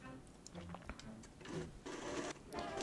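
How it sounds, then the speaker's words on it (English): A 1960s vintage Singer sewing machine stitches darts in short bursts, its rapid mechanical whir starting and stopping up close, with faint background noise between runs. "Here I'm sewing the darts"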